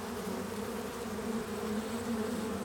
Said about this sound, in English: Each of these is a honeybee hive